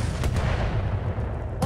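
Mech weapons fire a rear shot at an Archer in a video game, two sharp blasts at the start and end over a heavy, continuous low rumble.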